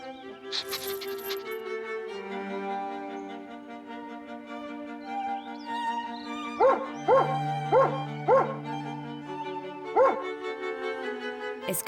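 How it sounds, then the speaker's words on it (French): A cartoon dog barks in a short run of yips over a cheerful children's music backing, several bright barks clustered in the latter half. "Bonjour Brownie le chien"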